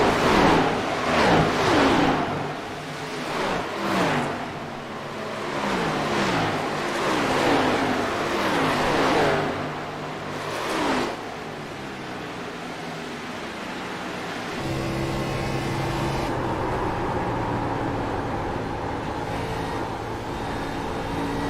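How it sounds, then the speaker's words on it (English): A race car at speed around the Atlanta oval, a loud, continuous engine roar with rising and falling revs, then a steadier drone toward the end, with no talk. "Let's ride a lap here with Ryan White"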